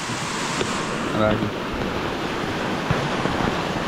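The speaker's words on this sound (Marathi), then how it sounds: "वड्याला फायनली पाणी आलं आहे" A village stream running with muddy water after the first heavy rains rushes in a steady, loud broadband roar, continuous and unbroken for the whole stretch, like a swollen stream.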